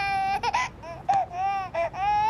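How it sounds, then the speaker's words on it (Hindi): A baby cries nearby, with loud, wavering, sustained wails broken by short catches of breath and no other voices. "इंजन स्टार्ट करो तो बच्चे के रोने की आवाज"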